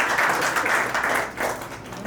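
Audience at a company event applauds their current captain, Ajay, with continuous, fairly loud clapping that fills the whole stretch without a break.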